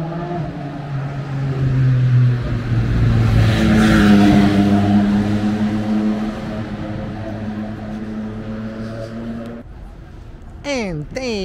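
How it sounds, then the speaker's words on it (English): Formula One race cars on the street circuit at the Monaco Grand Prix, loud high-pitched engine whine sweeping up and down as cars pass, with a second car briefly screaming by near the end. "And there goes my old Schumacher round the bloody corner and down there"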